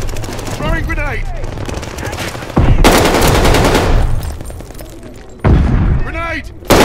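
In Call of Duty Vanguard gameplay with the Charlton automatic rifle, loud rifle fire chatters close by as a grenade blasts with a heavy boom, and voices speak over the chaotic battle noise.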